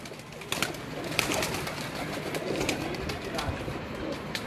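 Pigeons on a rooftop cooing and fluttering amid outdoor background noise, with a few sharp clicks and wing flaps, voices talking faintly nearby.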